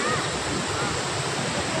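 Water released from Almatti dam pours through the Jurala dam in Karnataka's flow, a dense, steady roar of rushing water filling the whole clip, loud and continuous.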